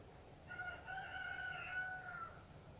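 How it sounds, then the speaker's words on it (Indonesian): A single rooster crows once in the distance in Santorini, Greece, a faint drawn-out call over quiet background hiss. "Aku dengar ayam tuh."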